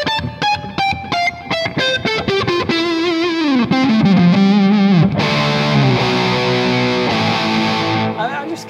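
A distorted electric guitar played through a Paul Reed Smith amp model plays a sequence of notes and chords, with heavy overdrive and sustained, ringing tones building into a thick, saturated sound.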